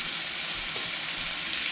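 Ground beef for a cheeseburger pie sizzles steadily as it browns in a pan, a continuous, close, even frying hiss with no talk.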